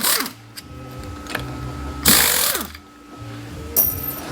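A ratchet with a 15 swivel socket works on a Cadillac 4L65E transmission during teardown, giving short bursts of clicking pawl sounds, close and fairly loud, separated by brief pauses with low mechanical rumble beneath.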